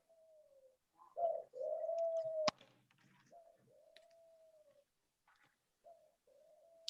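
A pet bird, a dove or pigeon kept indoors, coos in several drawn-out, fairly close calls separated by pauses, with a sharp click partway through.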